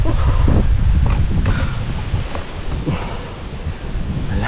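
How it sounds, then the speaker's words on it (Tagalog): Very strong wind buffets the microphone outdoors with loud, gusty low roaring that surges and eases over a few seconds. "Grabing lakas ng hangin mga kautol. Parang merong bagyo."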